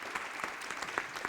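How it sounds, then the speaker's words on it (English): Conference audience applauding the interpreters, a short, quiet patter of individual claps at an irregular rhythm, heard from a distance for about a second. "Let's please give some applause to our very fine translators who've done such a great job in interpretation"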